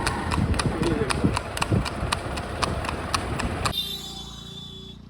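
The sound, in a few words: mare's hooves clip-clopping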